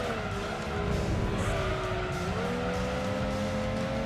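Racing cars in Gran Turismo 2, including an MX-5 and a TVR, roar with steady engine drones and shifting pitch as they brake late into a corner, loud and continuous throughout.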